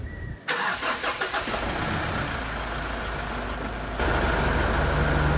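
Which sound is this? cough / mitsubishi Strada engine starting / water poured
mitsubishi Strada engine starting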